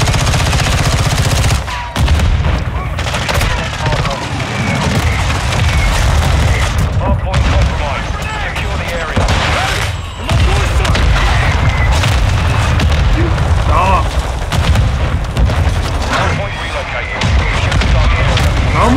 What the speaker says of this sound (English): How many mortar strikes?